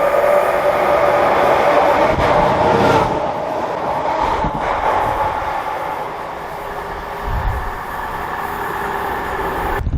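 A train on the Wherry Lines between Norwich and Great Yarmouth rushing past at speed, a loud close roar with rattling wheel thumps that eases slightly as it goes by.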